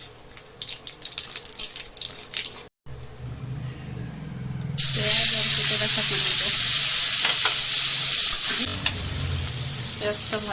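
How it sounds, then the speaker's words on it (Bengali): Onions frying in a pan on a home kitchen stove, a quieter sizzle with stirring scrapes that turns into a loud, dense, steady sizzle partway through, with occasional clinks of the spoon. "পেঁয়াজটা ভাজা হয়ে গেছে"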